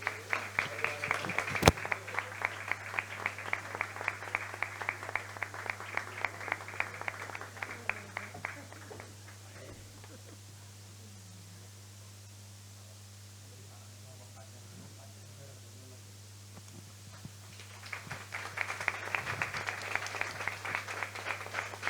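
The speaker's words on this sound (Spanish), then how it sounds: "Un aplauso." Applause at an award ceremony honouring local radio stations comes in two bursts of brisk clapping, loud at first, dropping to quiet murmur and hum in the middle, then rising again near the end over a steady electrical hum.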